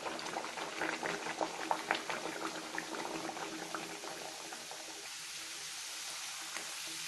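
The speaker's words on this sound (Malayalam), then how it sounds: "ഇനി കുറച്ച് ഫ്ലെയിം കുറച്ച് വെച്ചിട്ട് ബട്ടൂര ഇട്ട് കൊടുക്കുക" Batoora dough dropped into hot oil, a soft bubbling crackle of deep frying that is busier at first and settles into a quieter steady hiss, close and without talk.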